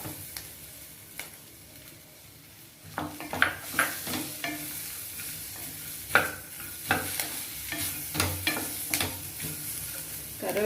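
Curry leaves fry in a pan while being stirred, quiet at first, then soft sizzling broken by irregular scraping and stirring clicks, close and moderately loud.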